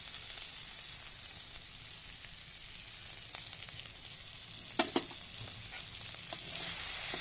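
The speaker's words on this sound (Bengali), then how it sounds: "এবার আর একটু কষিয়ে নেব।" Fish masala frying in mustard oil, a steady close sizzle with a few spatula scrapes and knocks near the end, no speech.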